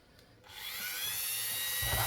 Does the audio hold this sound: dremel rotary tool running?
yes